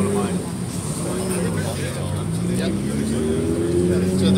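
A Viper sports car engine at a cars-and-coffee show in Jacksonville rumbles nearby with a rising, deep revving tone, while people talk over it.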